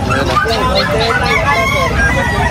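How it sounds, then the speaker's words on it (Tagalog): Chickens at a busy pet market clucking and crowing close by, repeated calls overlapping with people talking and crowd chatter. "May mga manok din siya."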